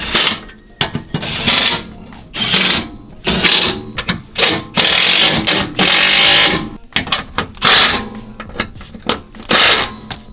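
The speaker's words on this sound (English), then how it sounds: "once you get all the bolts in, you can then tighten everything up." A ratchet tightens bolts on a skid plate being fitted to a 2019 Subaru Crosstrek, its close, rapid clicking coming in repeated bursts with short pauses between strokes.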